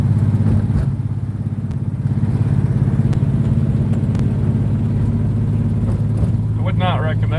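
A Barracuda car drives in the rain with a steady low engine rumble and road noise throughout, and a brief voice near the end.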